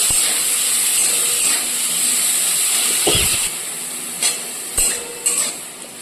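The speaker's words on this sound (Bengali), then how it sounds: "এরপর এখানে দিয়ে দেবো ঝিঙে ঝিঙেটাকে খুব ভালো করে ভেজে নেবো" Sliced ridge gourd fries in hot oil tempered with chilli and cumin, giving a loud, steady sizzle with a few sharp spatula clicks and knocks against the pan near the end.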